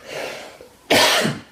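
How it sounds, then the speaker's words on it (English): A man coughs once, close and loud, after a short muffled breath. The cough is a sharp burst that trails off within about half a second. "Excuse me, I got a cough."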